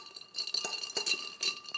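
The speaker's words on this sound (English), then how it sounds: "So now we're just going to give this a stir. We're going to make that nice and cold." Ice rattles and clinks against a mixing glass as a Cardinale cocktail is stirred to chill it, a quiet continuous jingle with no talking.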